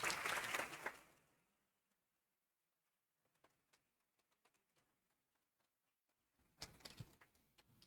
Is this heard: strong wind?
no